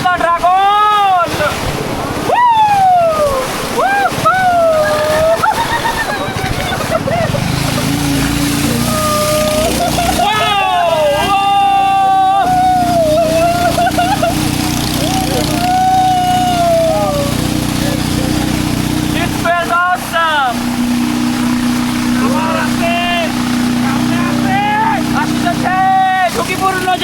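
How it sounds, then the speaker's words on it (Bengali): Boat engine droning steadily on a river ride in Bandarban, a loud continuous motor under rushing water, with people talking and calling out and frequent whooping and excited voices throughout. "আরেকটি ঝুঁকিপূর্ণ জায়গার মধ্য দিয়ে আমাদের বোটটি অতি শীঘ্র অতিক্রম করতে যাচ্ছে"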